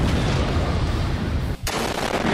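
Rapid, continuous gunfire from towers in the Roblox tower defense game Tower Defense X (TDX) in endless mode, loud and dense with a brief break near the end before the shooting resumes.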